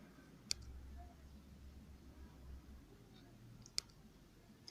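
A computer mouse clicks twice in a quiet room, two sharp isolated clicks about three seconds apart while a file is uploaded, with low background hiss between them.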